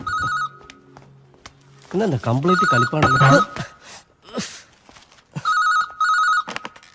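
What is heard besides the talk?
telephone ringing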